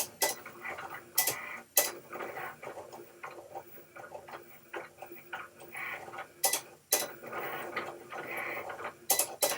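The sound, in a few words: vinyl cutting machine cutting letters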